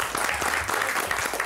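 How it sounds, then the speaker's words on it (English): Warm applause for contestants on the KOO cooking show Colour Your Plate, a brisk, dense round of clapping from a small group, steady and close throughout. "So give yourselves a warm round of applause."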